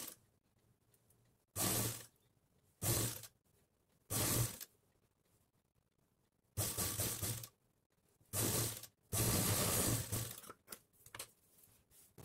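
A sewing machine stitches a folded blouse hem in seven short, sharp bursts of whirring, separated by near-silent pauses, close and fairly loud.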